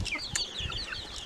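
A flock of chickens and small chicks gathered in a garden eat cracked corn, giving off soft overlapping clucks and high peeping chirps at close range, steady and fairly quiet, with no talking.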